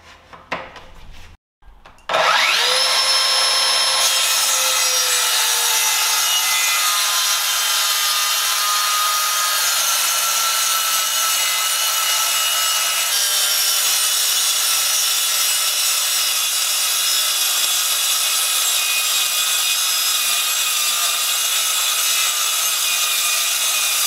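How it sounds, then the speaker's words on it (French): Metabo KT 18 LTX 66 BL cordless plunge saw running along a guide rail through wood: the motor spins up sharply, then a steady, loud, high whine holds through a long continuous cut, close and alone. "Je vais faire une coupe avec le rail."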